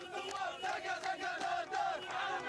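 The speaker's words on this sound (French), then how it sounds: "Les combattants sont acclamés en héros." A dense crowd cheers and shouts in celebration as anti-Gaddafi fighters enter liberated Ajdabiya, Libya; many voices overlap in a loud, continuous roar with surging peaks throughout.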